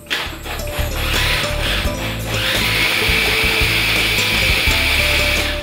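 A food processor grinds six garlic cloves and about four tablespoons of rosemary for an aioli fish marinade, a loud, steady whirring grind with rattling chops that rises in pitch and holds for several seconds, with no voices.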